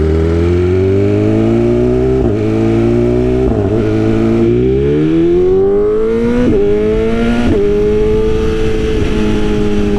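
A motorcycle being ridden, engine loud and close, with the tone climbing through the revs and dropping sharply at several gear shifts, a steady powerful drone throughout without any talking.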